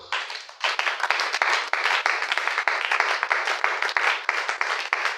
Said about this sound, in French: Est-ce que vous pouvez applaudir pour le Seigneur?